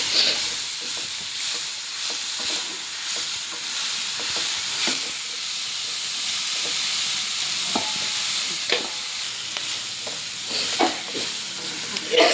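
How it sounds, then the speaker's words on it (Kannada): Carrot and garlic fry in hot oil in a home kitchen, producing a steady sizzling hiss close by, with scattered clicks and scrapes from stirring in the pan. "ಇಲ್ಲಿ ಗಜ್ಜರಿ ಮತ್ತು ಬೆಳ್ಳುಳ್ಳಿ ಅದ, ಇದು ಭೀ ಹಾಕಲತ್ತೀನಿ. ಇದು ಭೀ ಫ್ರೈ ಮಾಡಬೇಕು."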